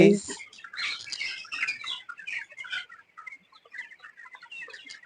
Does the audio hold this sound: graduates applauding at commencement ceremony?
no